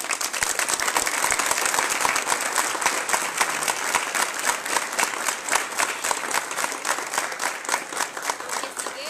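A Spanish-speaking audience at a Salvadoran youth marching band event breaks into sustained, loud applause, many hands clapping steadily for several seconds with no talking over it.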